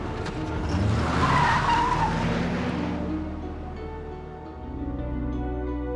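During an abduction outside a Hayward market, a car speeds off with a loud tire squeal and screech that peaks early and then fades as the engine pulls away into the distance, with no talking.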